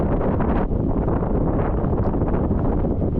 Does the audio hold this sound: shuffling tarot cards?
no